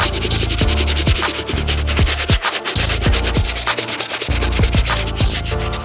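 A medium-bristle brush scrubs a white mesh sneaker upper in steady, loud back-and-forth strokes that continue close to the mic for the whole stretch.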